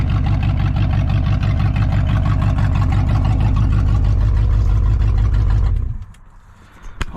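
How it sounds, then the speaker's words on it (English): A 15-year-old Ford F-150 that sat unused runs at a loud, steady, rough idle with a rapid low rumble, close by, then cuts off abruptly near the end, leaving near silence. "Look how easy it starts up."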